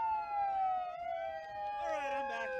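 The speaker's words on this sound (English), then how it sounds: "It's just a siren." A single emergency siren wailing in a steady falling and rising tone, fairly faint and distant, with a second siren tone joining near the end.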